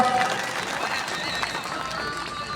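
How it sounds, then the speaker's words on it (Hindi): Audience applause at a political rally where MP Rajkumar Roat is welcomed to the stage in Pratapgarh, a steady, dense clapping spread evenly through the whole stretch with crowd noise behind. "सभी जोरदार तालियां बजाएं एक बार"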